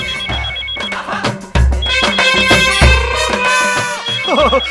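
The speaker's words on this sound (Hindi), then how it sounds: "सीएम साहब का फोन" A telephone rings loudly and repeatedly, its bright electronic tones sounding in bursts with no talking.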